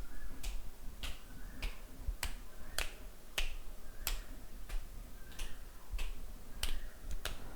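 Finger snaps are used as a stand-in for environmental or keyboard clicks in a microphone test of an Alienware 510H 7.1 gaming headset, a steady series of about a dozen sharp, evenly spaced snaps alone in a quiet room.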